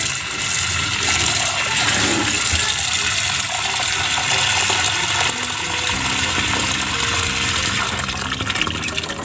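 Water from a fish container being dumped out in a steady loud gushing pour, running continuously with no voices.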